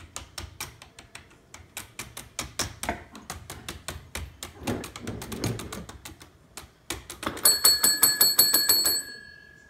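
A small bell rings in a quick series of bright tapping dings, first rapid and irregular, then a steady rhythmic run of louder rings toward the end, with no talk.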